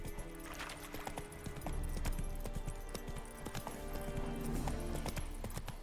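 Geralt's horse Roach from The Witcher 3 runs with steady, close hoof clip-clops and a brief whinny, over a continuous game backdrop of ambient sound and music.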